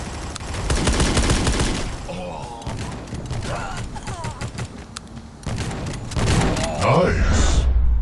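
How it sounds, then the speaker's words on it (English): Rapid bursts of gunfire and automatic weapon fire in the mobile shooter Guns of Boom, loud and dense with short pauses between volleys and a few thuds and mechanical clicks. "Shot."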